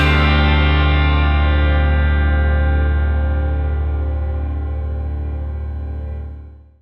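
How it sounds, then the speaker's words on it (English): One guitar chord, struck once and left ringing loud and close, with a bright jangle that fades slowly over about six seconds and cuts off at the end. "And now you know how that first iconic chord was created."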